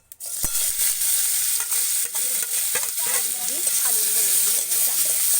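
Stuffed eggplant, spicy village-style, cooking in only a little oil in a pan: a steady close sizzle broken by scraping stir strokes and clatter, with a faint voice murmuring underneath.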